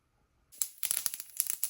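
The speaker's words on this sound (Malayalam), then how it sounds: "കടുക് പൊട്ടി തുടങ്ങി." Mustard seeds crackling in hot oil in a pan, a burst of sharp, irregular pops starting after a half-second of quiet and continuing close and fairly loud.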